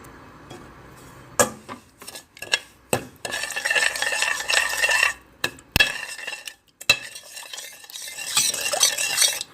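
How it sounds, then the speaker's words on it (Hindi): Sugar and water syrup for peanut chikki stirred in a pan on the stove, with repeated scraping and clinking of a spoon against metal between short pauses, close and clear. "अब हम साथ ही शीरा भी रख देते हैं बनने के लिए।"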